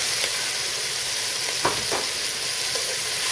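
Sliced Vidalia onions fry in a pan with a steady, dense sizzle throughout, broken by a few light clicks of stirring; no one speaks.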